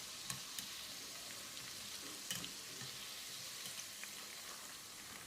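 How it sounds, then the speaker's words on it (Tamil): Chicken pieces deep-frying in hot oil for a restaurant-style chicken dish, with a steady, close hiss of sizzling and a few soft crackles and pops throughout, no voices. "இந்த மாதிரி எண்ணெயில் நுரை அடங்கி வர்ற இந்த ஸ்டேஜில் இதை எடுத்துடலாம்."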